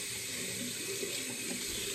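Hot water runs from a tap into a sink, a steady close hiss of flowing water with no talk over it.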